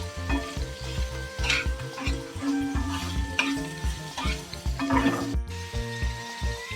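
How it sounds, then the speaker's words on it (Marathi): Capsicum and potato with mustard seeds and spices sauté in a pan, a close, busy sizzle broken by repeated scraping and stirring strokes. "जरा परतून घेऊया हे सगळं."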